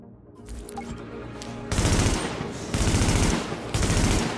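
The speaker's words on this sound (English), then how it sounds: "I got the M4 and I love that weapon" Sustained automatic bursts from an M4 rifle in Tom Clancy's The Division video game, loud and close, firing in three or four rapid rhythmic volleys with no talking over them.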